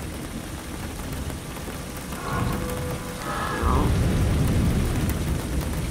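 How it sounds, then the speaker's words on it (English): Rain patters steadily on a surface with low rumbling thunder swelling in partway through, a stormy ambience in the horror adventure video game Phantasmat 3: The Endless Night, with no talking. "I can hear the thunder."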